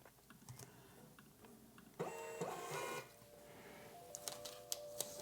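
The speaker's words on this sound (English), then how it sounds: "So printing that off." A printer runs off a spreadsheet page, whirring and clattering steadily for a few seconds with mechanical clicks and a brief feed whine, nearby and moderately loud with no talking.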